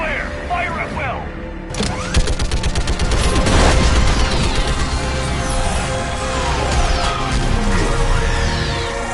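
Heavy sci-fi gunfire and crashing impacts from Mass Effect 3, dense rapid bursts running throughout after a brief lead-in, loud and continuous, with voices talking over the combat.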